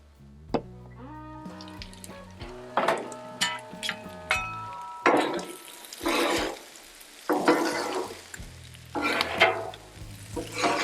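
Bacon fried corn with a splash of tequila lime seasoning is stirred on a Blackstone griddle: bursts of crackling sizzle and scraping come in irregular pulses, loud and close, with no talk.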